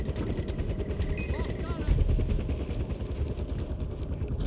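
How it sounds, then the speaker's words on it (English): Helicopter in the Far Cry 4 video game, a continuous rhythmic rotor chop and engine drone held at steady loudness under game effects. "I should probably deal with this helicopter first."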